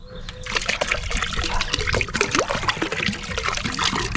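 Soap and vinegar pouring into a tub already filled with water, a steady splashing trickle with scattered drips and sloshing, fairly close and continuous throughout with no talking.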